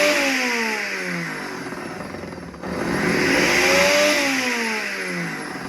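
Ninja Foodi blender running on its frozen drink program, its motor whirring loudly and steadily, dipping briefly midway before ramping back up with rising and falling pitch as it pulses through the frozen ingredients.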